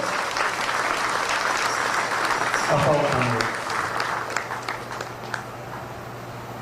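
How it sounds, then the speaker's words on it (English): Audience applause at a Ganesh Utsav temple yajna, dense sustained clapping from a crowd that tapers off toward the end, with a voice speaking over it. "Please give a round of applause to all of"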